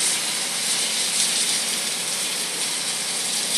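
Steak searing on an outdoor grill, heard as a steady, loud, bright sizzle that holds unbroken throughout, with no talk over it.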